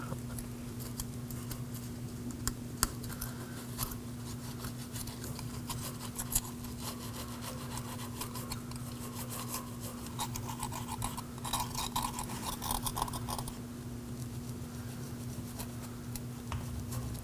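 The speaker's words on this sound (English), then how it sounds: "Now I'm going to remove the rest of the adhesive with a razor blade." A razor blade scrapes leftover adhesive from a rear axle part on a 2018-2024 Chevrolet Equinox during an inner seal replacement, producing quick, close, repeated scratchy strokes over a low steady hum, with no talking.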